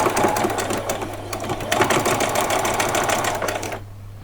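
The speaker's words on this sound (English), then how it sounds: "I'm going to just sew all the way across, remembering to put a back stitch in to start yourself off." A sewing machine stitches straight across the fabric of a doll's saree skirt, a steady close whirring run with back stitches, lasting about four seconds before stopping abruptly.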